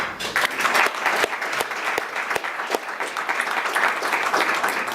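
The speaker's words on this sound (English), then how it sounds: "we'd like to give you a round of applause as well" Applause from an audience at a leadership talk, honoring advisory cabinet members and mentors: dense, steady clapping lasting throughout, fairly loud, with a few sharper individual claps standing out.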